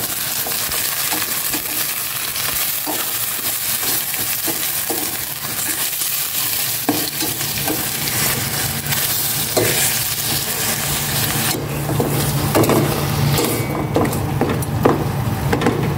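Chicken pieces fry in hot oil in a pan while being stirred, giving a steady close sizzle with repeated scraping and clinking of the utensil against the pan throughout.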